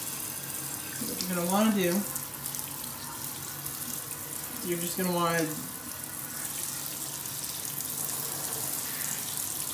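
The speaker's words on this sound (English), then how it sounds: "wanna run the water on the different pieces of the instrument" Tap water runs steadily over disassembled trumpet parts in a sink, a continuous splashing wash with someone talking over it.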